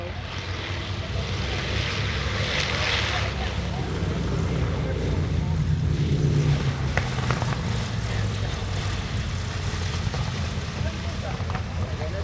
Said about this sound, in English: The B-25, very loud.